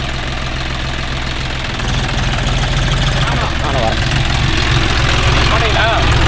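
A John Deere 5045D 4WD tractor runs with its engine and gearbox, giving a steady low diesel drone that grows louder partway through, with a persistent mechanical rattle and people talking over it.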